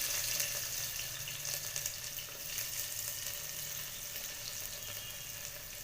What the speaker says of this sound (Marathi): मोहरी तडतडल्यावर आपण याच्यात कांदा टाकणार आहे